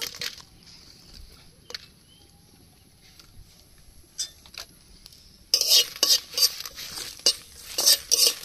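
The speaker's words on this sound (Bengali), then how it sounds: "শুকনো লঙ্কা, গোটা জিরা, গোলমরিচ, ধনিয়া আর গরম মশলা সব একসাথে ভেজে নেব।" Dry red chillies, whole cumin, black peppercorns, coriander and garam masala fry in a pan while being stirred, a faint crackle with scattered scrapes at first, then louder spoon scraping and clinks against the pan, no talking.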